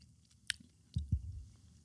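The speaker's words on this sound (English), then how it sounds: "Easy with the chewing sounds." Dried mango being chewed close to a microphone: a sharp click, then a few soft, wet squishing bites and mouth sounds, quiet and without talk.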